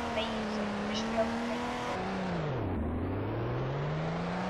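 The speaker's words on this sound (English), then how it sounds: "Oh, I love drifting on sand." Engine whine of a car drifting on sand in Roblox Car Dealership Tycoon, a steady continuous drone that dips in pitch midway then climbs again, with talking over it throughout.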